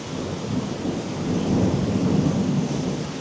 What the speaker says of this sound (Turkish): Az önce yıldırım düştü çevrede bir yere. Yerler sallandı falan.